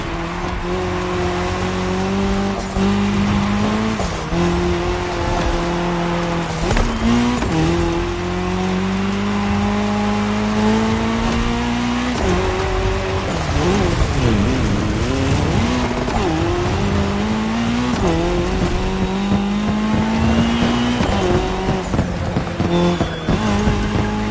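Race cars in The Crew Motorfest video game roar loudly and continuously on tarmac, engines revving and shifting through gears with tire squeals during a cross-terrain race, all close and without any speech.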